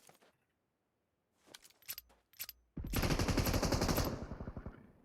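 Rapid automatic gunfire in PUBG Mobile on the secret island map, a few scattered single shots and short bursts first, then a loud sustained burst of about a second and a half that tails off into spaced shots.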